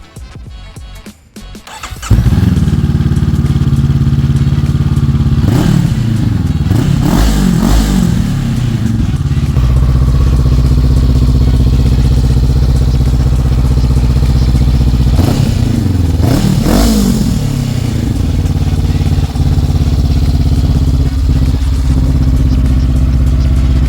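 A 2022 Honda CB500F motorcycle fitted with a new exhaust end can starts up and settles into a loud, steady idle. Two sharp revs break the idle, one around the quarter mark and one past the middle.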